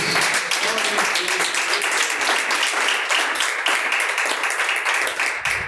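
A church congregation claps steadily during a service, dense applause sustained for several seconds at moderate loudness.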